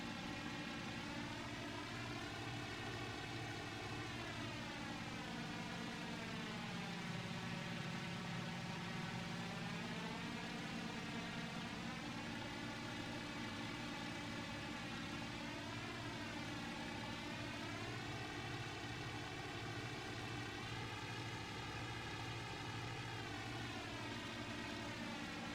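A steady, loud aircraft engine drones in the Il-2: 1946 flight sim, throttle fully open. The tone wavers slowly in pitch for the whole stretch, with no voices.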